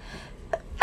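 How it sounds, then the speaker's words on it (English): A single sudden sneeze bursts out close to the microphone at the very end, preceded by a quiet catch of breath in an otherwise still indoor room. "I knew I was going to sneeze."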